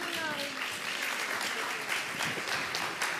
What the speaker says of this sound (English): Big round of applause for Peggy Noonan.